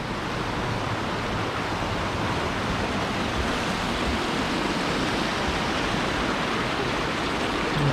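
A river in Bosnia rushes through a rocky channel, giving a close, steady, dense roar of churning water that holds evenly throughout with no voices.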